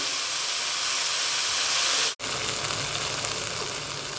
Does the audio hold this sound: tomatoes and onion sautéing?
yes